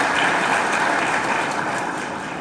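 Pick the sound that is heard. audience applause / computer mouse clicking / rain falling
audience applause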